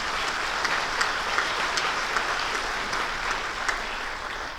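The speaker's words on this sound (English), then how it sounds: "Give them a round of applause." Audience at a chamber of commerce meeting giving a round of applause, a broad, even roar of many clapping hands sustained throughout with a few crisper claps standing out.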